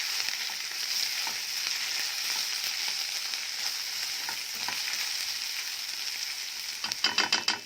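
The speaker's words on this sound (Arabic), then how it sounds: "هشوح بقى التوابل مع اللحمه." Minced meat with spices sautéing in a pan: a steady, close frying sizzle with occasional stirring, ending in a brief cluster of sharper clatters.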